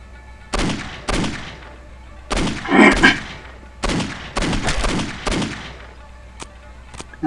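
Gunshots in the video game Postal 2, a series of loud separate bangs with short pauses between them, ringing out alone with no talk over them.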